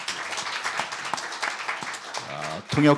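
Clapping from the audience at a Kwanhun Forum session for a former US special representative for North Korea policy continues steadily, with a voice speaking briefly near the end.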